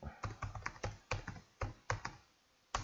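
Keystrokes on a computer keyboard while entering text into an Excel spreadsheet, a close, quiet run of irregular clicks in short bursts with a brief pause before a final tap.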